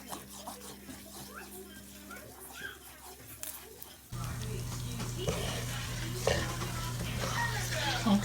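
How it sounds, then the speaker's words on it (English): Flour stirred and sizzling in a pot while browning for homemade brown gravy, soft scraping strokes over a bubbling fry that grows louder midway, with a person talking throughout. "So we're gonna go ahead and stir this, cook it down, and get a little bit of color on our flour."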